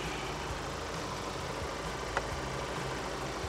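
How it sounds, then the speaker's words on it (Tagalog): The 2-liter bi-turbo diesel engine of a Ford Everest Titanium+ 4x4 idles steadily with the hood open, giving a low, even rumble with no voices. "Ford Everest 4x4 is powered by a 2-liter bi-turbo diesel engine that delivers 207 horsepower and 500 Nm of torque"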